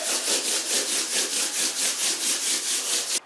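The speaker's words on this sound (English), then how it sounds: "The last step is sanding the tiles with 400 to 600 grit sandpaper." Shower tiles are sanded by hand with 400 to 600 grit sandpaper, giving a close, rhythmic back-and-forth rasping with about a dozen even strokes before stopping abruptly.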